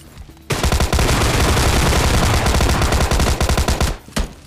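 Loud rapid automatic gunfire in a shooting video game, a dense continuous burst of shots lasting several seconds, then a brief pause and a couple of final shots.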